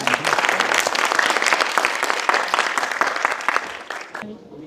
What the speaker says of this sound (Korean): 네, 그러면은 박수 부탁드립니다